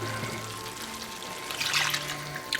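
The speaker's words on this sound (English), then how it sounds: "We're going to add water to this." Half a cup of water is poured into a pan of chicken korma, a steady trickling pour swelling into a brighter splash near the end, heard close and alone.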